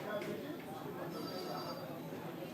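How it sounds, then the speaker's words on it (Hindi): A telephone rings on a live call-in astrology show amid a busy studio background, faint and partly buried beneath someone speaking. "देखिए फोन कॉल्स तो लगातार आते ही जा रहे हैं हमारे पास"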